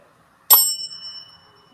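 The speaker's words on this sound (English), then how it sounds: "whoever's dinging the damn bell at Todd and Carmela's house." A single bright bell ding rings out close and loud, its clear tone lingering and slowly fading in an otherwise quiet house.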